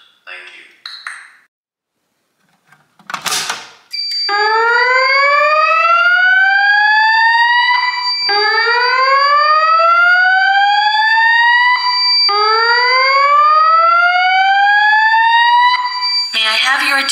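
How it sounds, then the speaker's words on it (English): A Notifier voice evacuation fire alarm sounds during a garage system test: after brief voice and noise, loud rising whoop sweeps repeat four times in a steady cycle, with tonal pings layered on top. "There has been a fire alarm reported in the building."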